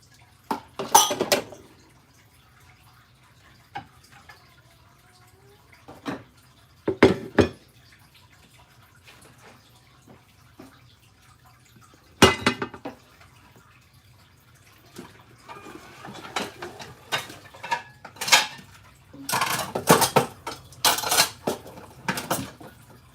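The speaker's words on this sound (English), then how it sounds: "Taking all the dishes out of the dish drainer." Dishes are lifted out of a dish drainer one after another, with sharp clinks of ceramic and rattling cutlery in scattered bursts separated by quiet pauses, close and alone without talk.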